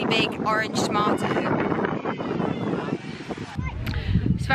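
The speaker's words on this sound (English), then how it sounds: "It's very windy" Strong gusts of wind buffet the microphone in a continuous roar at an outdoor pumpkin patch, with people talking over it.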